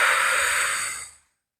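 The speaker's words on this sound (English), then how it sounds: "and then exhale it out" A deep, breathy exhale through the mouth during a bedtime yoga session, one long airy sigh that fades out into silence.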